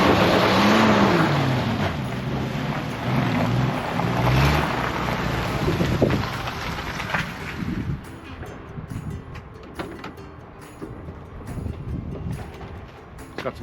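The engine of a 1987 Jeep Wrangler pulls as it drives, a rumbling motor under strong wind buffeting that eases off partway through as the drive continues.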